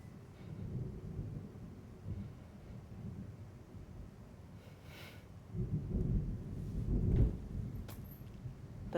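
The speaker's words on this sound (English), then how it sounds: "The thunder sounds good" Low, rolling thunder rumbles throughout, swelling louder in the second half with a heavier crack near the end.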